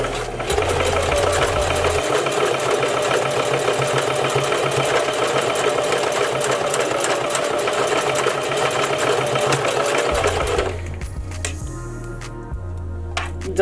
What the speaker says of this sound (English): I'm gonna go slow